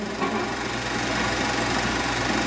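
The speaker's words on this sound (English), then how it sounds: "The WD-45 is powered by the latest in engineering development, adapted for the special needs of power farming, the Power Crater engine." Allis-Chalmers WD-45 farm tractor with its Power Crater engine running, a steady even mid-pitched drone with fine rapid pulsing, close and constant with no voices.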